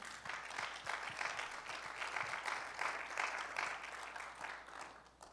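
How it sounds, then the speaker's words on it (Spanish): Congregation applauding the Lord during a church sermon, a steady wash of many hands clapping at moderate distance, continuous throughout with no clear voices on top. "¿Puede darle un aplauso al Señor por eso?"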